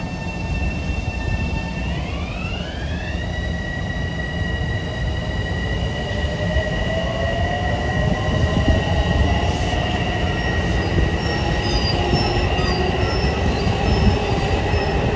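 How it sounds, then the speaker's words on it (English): A Long Island Rail Road train bound from Atlantic Terminal to Ronkonkoma passes near Jamaica and Hollis, a loud continuous rumble of rolling cars with high wheel squeal rising and then holding steady for the whole stretch. "That was an Atlantic Terminal to Ronkonkoma bound train."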